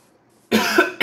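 A single harsh cough bursts out close up after a brief silence, followed by a second short cough.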